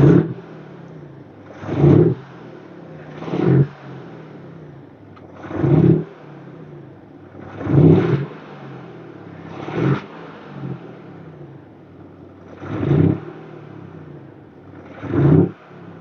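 Revving of a BMW X5 diesel with an Active Sound Booster, eight short throaty engine blips spaced roughly two seconds apart over a quiet idle, close and clear with no voices.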